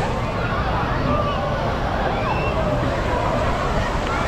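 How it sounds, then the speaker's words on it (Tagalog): Wave pool surf at a water park in Taguig rolls in a continuous broad wash, loud and steady, mixed with the babble of a crowd of swimmers. "Parang alon talaga ng dagat eh."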